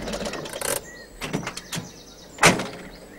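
An animated bus door slides open in a cartoon shopping trip, giving a short mechanical whoosh and clunk with a sharper burst near the end, with no talking over it.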